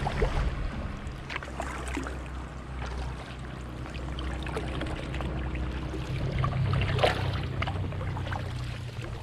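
An inflatable drop-stitch kayak rides river backwash on the River Ouse, with a steady rushing of water against the hull and faint splashes and paddle knocks throughout, close and continuous.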